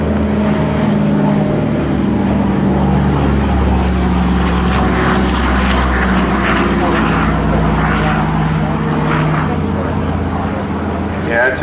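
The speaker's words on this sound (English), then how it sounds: "this wonderful, iconic Dakota BBMF display transport aircraft" A Douglas Dakota propeller transport aircraft from the Battle of Britain Memorial Flight flies a display at an air show, its engines a loud, steady droning roar throughout, with a commentator talking over it.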